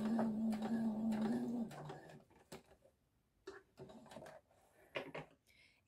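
A sewing machine runs in a steady loud whir for under two seconds, then gives a brief reverse back tack burst before stopping, followed by scattered handling clicks and fabric rustles.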